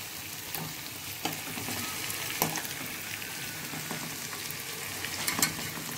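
Potatoes for Kashmiri dum aloo cook in a pan, a steady low sizzle running throughout with several sharp scraping clicks as they are stirred, moderately close and without speech.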